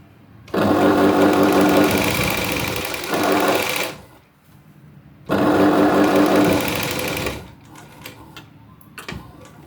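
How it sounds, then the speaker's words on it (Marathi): A sewing machine stitches the neckline of a boat-neck blouse, running loud and steady in two long bursts separated by a pause, then trailing off into faint clicks and handling sounds. "पूर्ण शिलाई मारत यायची या कोण्यापर्यंत बघा"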